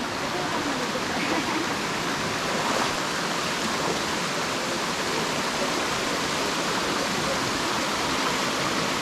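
A jungle waterfall in the Philippines roars with loud, constant broadband rushing water that stays steady throughout, with no breaks.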